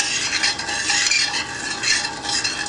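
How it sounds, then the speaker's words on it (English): Sugar water being stirred in a pot while making homemade wine gives a steady, close scraping swish with faint sizzling. It continues without a break and with no voices. "I'm gonna stir it a little bit."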